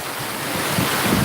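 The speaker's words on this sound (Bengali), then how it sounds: "ওই বৃষ্টি খুব বেশি বাড়ছে বাতাসের গতিবেগও বাড়ছে" Heavy rain and strong wind in a rural village make a steady, dense roar of broadband noise that swells slightly toward the end, with gusty rumbling buffeting the microphone throughout.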